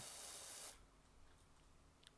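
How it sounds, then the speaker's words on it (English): A pressure washer hisses steadily as it sprays water across a roof in PowerWash Simulator. The sound is faint and continuous, then cuts off sharply after a moment, leaving quiet background. "I'm opting to walk around and do laps on a roof that I am spraying water on."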